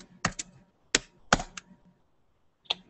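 Keys on a computer keyboard are struck in short clusters of sharp clicks, close and isolated against a quiet room, with pauses between bursts.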